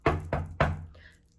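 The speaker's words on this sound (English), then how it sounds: "you didn't get the knock on the door" Three sharp knocks on a door, close and crisp, the first two evenly spaced and the third slightly later with a short ringing decay, and no speech.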